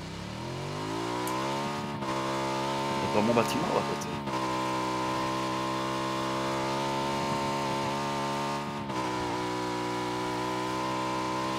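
Motorcycle engine revving in a video game, a steady droning whine that climbs in pitch early, then holds loud and sustained throughout, with someone talking over it.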